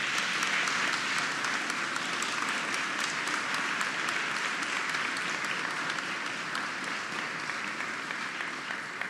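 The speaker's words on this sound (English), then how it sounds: "Audience, please, a round of applause." Sustained audience applause at a law school distinguished lecture marking a 25th anniversary, a dense, steady wash of clapping from a large crowd that holds evenly for about nine seconds with no speech over it.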